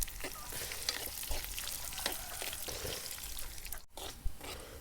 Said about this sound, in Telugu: ఫ్రెండ్స్, ఇవి వేసుకొని 1 నిమిషం పాటు బాగా వేపాను.